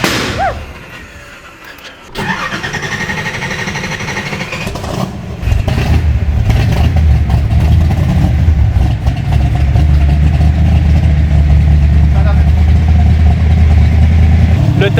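A car engine with a throttle stuck wide open, bought at a Japanese auction, rises from a rough, uneven start to a loud, steady high-revving drone that holds close and constant.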